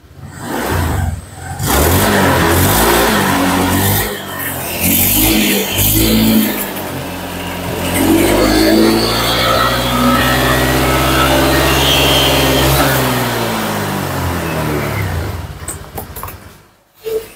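Motorcycle engine being revved with the throttle during a check for smoke and oil burning, a loud, close, sustained roar that climbs and holds high for over ten seconds before cutting back to idle, no talk.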